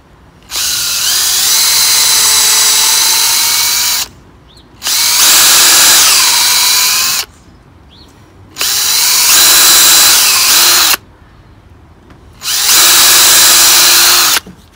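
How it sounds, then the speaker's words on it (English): A power drill drills out screws in wood during a burnt allotment shed rebuild, running in four loud, sustained bursts of several seconds each, its pitch dipping under load, with short quiet pauses between. "now I can just drill those out"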